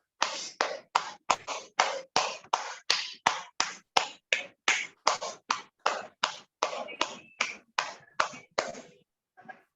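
Sharp, evenly spaced claps, about two per second and some two dozen in all, close and clear against silence, at the end of a guided meditation session.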